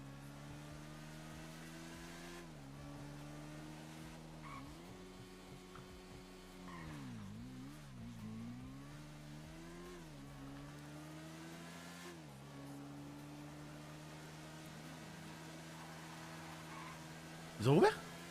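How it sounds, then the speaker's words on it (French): A car in the video game GTA 5 drives out with a steady mid-pitched engine drone, rising and falling as it revs and shifts. The engine runs continuously at moderate volume, and a sharp clatter sounds near the end. "Attends, y'a une voiture qui sort de là?"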